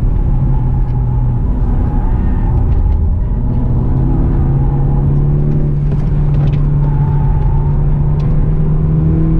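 A Volkswagen Polo GTI lapping the Nürburgring Grand Prix circuit, its engine a loud steady in-car drone with rising and falling revs and constant road rumble.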